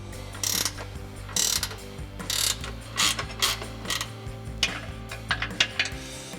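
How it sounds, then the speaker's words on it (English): An 18mm ratcheting wrench clicks in quick bursts of pawl ticks as it loosens an upper control arm bolt on a Jeep Wrangler JL during a suspension lift install, close and fairly loud, with no talking. "Now I've got our 18mm ratcheting wrench"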